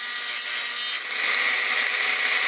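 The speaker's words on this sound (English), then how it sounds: "I'm just taking a Dremel here and I'm going to put a little flat spot on the end" A Dremel rotary tool grinds a small flat spot onto the end of a metal tail hub shaft, giving a steady, loud high-pitched whine that continues without a break and shifts slightly in tone partway through.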